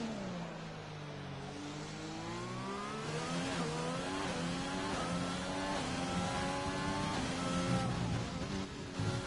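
Formula One car engine in the F1 2020 video game on a flying qualifying lap at China, a loud, steady high-pitched scream rising and falling through gear changes with no talk.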